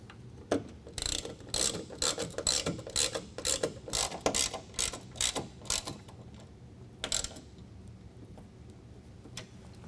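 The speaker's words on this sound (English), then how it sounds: "We're going to tighten those down with a 10mm." A ratchet with a 10mm socket tightens bolts while a UnderCover Swing Case toolbox is installed on a 2022 Toyota Tundra truck bed, with close, quick bursts of clicking strokes followed by a few slower clicks.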